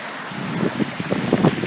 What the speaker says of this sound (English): you can probably hear the noise of the traffic and the noise of the wind